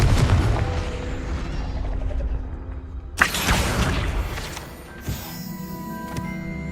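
A Confringo fire spell explodes in the Hogwarts Legacy video game: a sudden sharp blast cuts through a rumbling background, followed by a smaller burst and lingering ringing tones.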